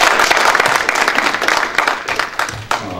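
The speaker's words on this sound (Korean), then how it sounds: "큰 박수 부탁드리겠습니다." Audience applause at a Chungbuk National University policy debate, loud and close, with many hands clapping densely at first before thinning into scattered claps and a few louder single hits toward the end.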